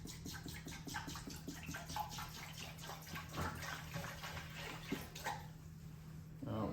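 Liquid is poured into a container, likely a tumbler for cleaning, as a steady watery splashing with a constant hum underneath. The flow breaks off near the end.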